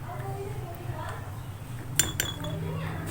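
A spoon clinks against a bowl while honey, garlic and other home remedy ingredients are stirred together, with a few light taps over a steady low hum.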